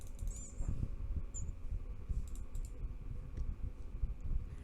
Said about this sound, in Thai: จะมาก็มา ไม่ใช่กดแต่คีย์บอร์ด